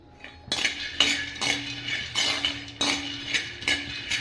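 Peanuts dry-roasting in an earthen clay pot while being stirred, giving close, repeated scraping rattles of nuts against the pot at roughly half-second intervals, with no talking.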